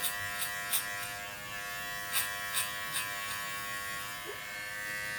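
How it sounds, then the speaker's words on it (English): Electric hair clippers buzz steadily near the head during a self-administered skin fade, with a few short, sharper bursts as the blade flicks against the hair. "start flickering the clipper against your head"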